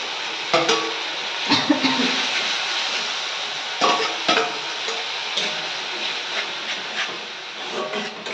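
Tomato paste and slit green chilies sizzle steadily in a pan of jackfruit and potato curry, with sporadic clinks and scrapes of stirring over the frying hiss.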